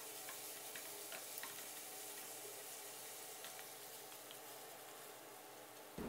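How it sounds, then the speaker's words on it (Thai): Diced carrot topping for Thai steamed egg being stir-fried in a pan, a steady soft sizzle with scraping stir strokes, moderately close and continuous with no talking. "แล้วก็ให้เราผัดเครื่องของเราให้เข้ากันนะครับ"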